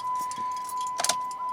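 Keys jangle briefly in the ignition of a Jeep Patriot amid a steady, close background hum, with a few quick metallic clinks bunched together.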